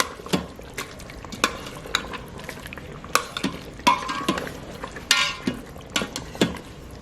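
Oxtail sauce stirred in an Instant Pot, rapid irregular scrapes and clinks of a spoon against the metal inner pot over a soft simmer, close and fairly loud, with no voices.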